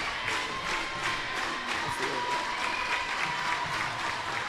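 A crowd at a college basketball game applauding steadily, a dense, sustained wash of clapping that fills the gym at moderate loudness, with faint talk underneath.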